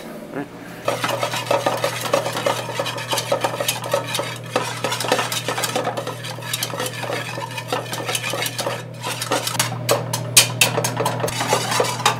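Food stirred in a sizzling pan at Topkapi restaurant, a utensil scraping and clinking against the metal in a busy, steady rhythm over a low kitchen hum.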